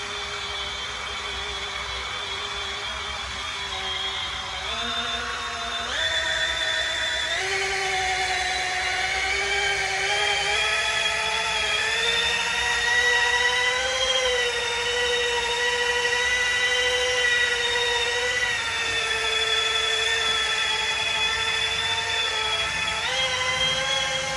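A power polisher buffs the paint of a 1997 Toyota Land Cruiser using 3D ACA 500 compound, giving a steady high whine with shifting pitch as pressure changes, loud and continuous throughout with no talking.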